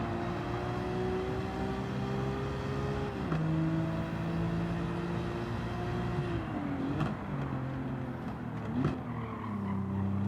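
A Nissan Skyline R34 race car engine in Gran Turismo 7, holding a steady high drone that steps through gear shifts with brief dips and rises, loud and continuous.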